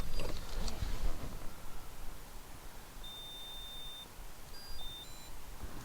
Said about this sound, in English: After 5 seconds the tool will flash and beep.